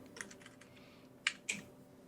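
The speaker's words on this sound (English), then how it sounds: "I am typing the port incorrectly" Computer keyboard typing, a few soft keystrokes followed by two sharper, louder clicks in quick succession, close up and without speech.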